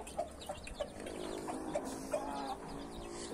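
Game chickens kept as fighting birds cluck in short, repeated bursts roughly every third of a second, close by and fairly clear over a light farmyard background.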